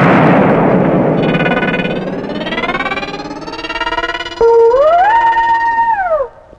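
A bomb goes off inside a cinema theatre: a loud blast opens, its roar fading into ringing tones, and a sharp rising-then-falling whistle follows.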